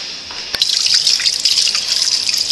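Water runs from a kitchen tap in an artist's studio kitchen, a steady loud hissing splash that starts abruptly and continues with small drips and trickles.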